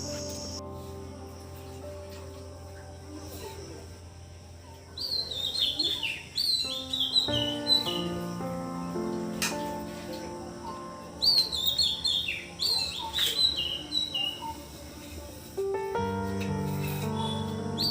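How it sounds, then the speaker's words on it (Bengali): An unidentified bird sings repeated bright chirping phrases in bursts, fairly close, over a steady insect-like hum and faint household background. "আমরা ডাক তো শুনেছি কিন্তু এর নাম আমরা জানি না"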